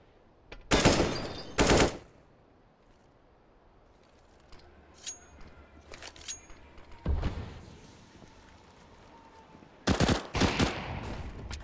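AK-47 fire in a Counter-Strike match: two loud, sharp bursts near the start, quieter scattered shots in the middle, then another close burst at the end.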